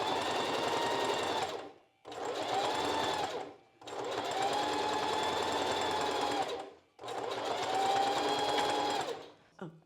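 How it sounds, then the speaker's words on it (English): A sewing machine stitching boning channels on a strapless bra cup runs in four steady, whirring bursts, each lasting one to three seconds, separated by brief pauses, close and clear with no talk. "at the top we pivot, sew along the top, and then back down the other side"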